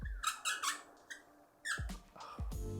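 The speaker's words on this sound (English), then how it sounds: "This next one is pricey. It's got a cap that makes this noise," The cap of a Creed Royal Oud fragrance bottle is worked open, giving a string of high, close squeaks and creaks in short bursts with brief pauses between them.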